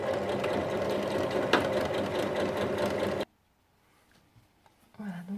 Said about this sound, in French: on fait un point d'arrêt, on pique tout le tour et on laisse une ouverture de 7 cm